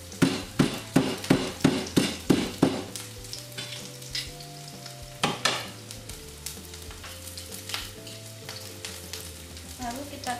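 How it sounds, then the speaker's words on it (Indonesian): Lemongrass stalks crushed for shrimp and tofu soup: a quick run of about nine sharp, evenly spaced thumping blows up close, then a few scattered knocks over a steady low sizzle, with no voices. "kita geprekkan lebih dahulu serai"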